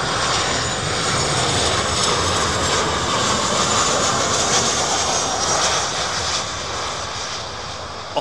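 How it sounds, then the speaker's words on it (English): An Amazon Prime Boeing 737 freighter jet flies past with a loud, steady engine roar that fills the whole stretch and eases off slightly near the end, with no talking. "There's a freighter for you, folks."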